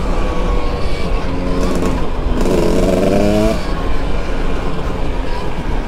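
A Stark Varg Alpha electric motorcycle in mode 3 (40 horsepower) rides over rocky woodland ground, with a steady rough rumble of tyres and terrain and a brief rising electric whine near the middle.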